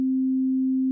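A single steady pure tone hums at a constant pitch for about a second, then cuts off abruptly.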